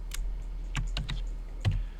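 Keys on a computer keyboard are pressed for a shortcut while modelling a scene in Blender: a handful of crisp, close clicks spaced irregularly over a faint steady hum, with no talking.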